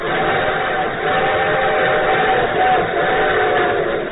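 A steady, loud train rumble runs without a break, muffled and thin like an old recording, with no voices.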